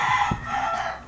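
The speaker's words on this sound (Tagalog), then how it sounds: "Ang ingay ng manok." A rooster crows loudly and close by, one short burst of a call with a harsh, ringing tone, heard alone.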